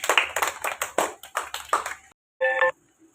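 Children at a school quiz competition clap their hands in a burst of quick, uneven claps lasting about two seconds, followed by a brief electronic beep and quiet.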